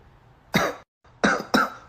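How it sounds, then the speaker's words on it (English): Three sharp coughs from one person, close by: a single cough, a short pause, then two quick coughs in a row. "Cough, cough."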